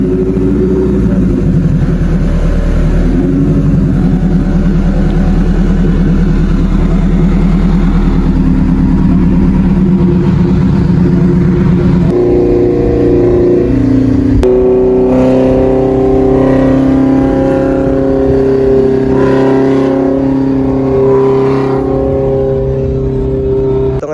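A Mitsubishi 4G63 DOHC engine fitted in an owner-type jeep runs loud and close, holding a rough idle and then revving, with the pitch shifting partway through and no voices over it.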